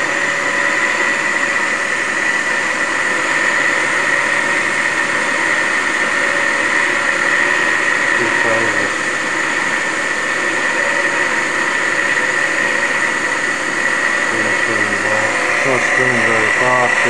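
A two-phase generator spinning very fast on a test rig makes a loud continuous whine and hum with steady tonal layers and no letup.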